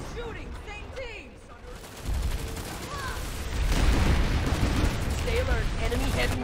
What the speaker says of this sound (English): Stop shooting! Same team!